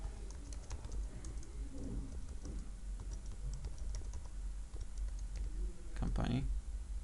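A company name typed on a computer keyboard while laying out a business card in CorelDRAW: a quick run of soft, close key clicks over a low steady hum, with a short cooing burst near the end.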